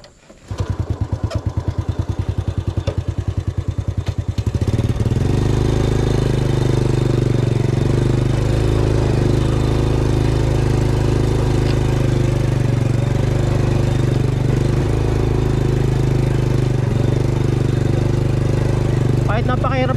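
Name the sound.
motorcycle engine idling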